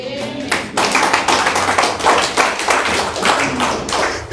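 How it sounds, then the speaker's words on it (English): A church congregation claps during a sermon, a loud, fairly brief run of close claps with voices mixed in. "No, you just give him a clap."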